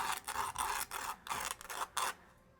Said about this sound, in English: Now I'm going to take my thicker grit sandpaper. This is 150.